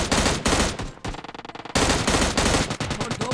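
Rapid M16 rifle bursts in the PUBG Lite video game, loud and close, firing in dense sustained volleys with a short break of lighter rattling shots before another heavy burst.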